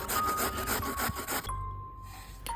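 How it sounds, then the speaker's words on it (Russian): Beta-carotene and pectin are rubbed on a kitchen grater in a few quick rasping strokes that stop abruptly, followed by a faint tap. "Трем их на терке."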